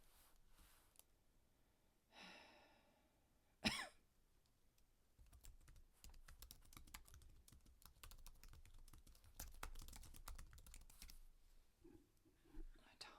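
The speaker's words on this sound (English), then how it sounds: "You may not hear me that well as I'm typing" Quiet, close-up rapid typing on a keyboard, a run of dense clicking keystrokes, preceded by a couple of breaths or rustles.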